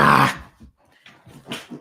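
Dogs growling and whimpering while chewing on a workout toy, a close snarling burst followed by softer grumbles and whines in short uneven bursts.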